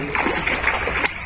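Freshly caught fish thrash and jump inside a net, giving quick bursts of close, splattering water under background voices.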